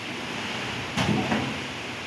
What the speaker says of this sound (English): That's them dang goats jumping on my door.